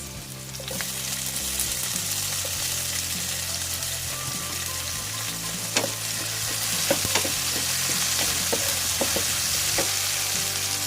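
Tomatoes sizzle in a pan while pork binagoongan fries, a steady crackling hiss with scattered pops and stirring scrapes close by, and no voices.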